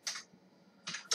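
A few quick keystrokes on a computer keyboard, heard while editing a document in Texmaker: two short bursts of clicks separated by a pause, close and fairly quiet.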